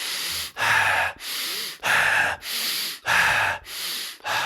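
A person takes deep, forceful breaths during a breath work exercise, alternating sharp inhales and exhales in a steady rhythm of about seven strokes, close and loud, with no talk.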